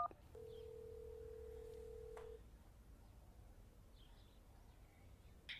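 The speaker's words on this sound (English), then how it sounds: "you dial 911 on your cell phone" A single long steady tone from a cell phone keypad as 911 is dialed, sounding alone over quiet background hiss, then stopping abruptly with faint outdoor chirps after.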